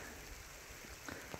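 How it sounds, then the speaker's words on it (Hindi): Steady rain falls on a village at Potha Sher in Azad Kashmir, a soft continuous hiss heard alone at low level, with a couple of slightly sharper drips near the end. "बारिश हो रही"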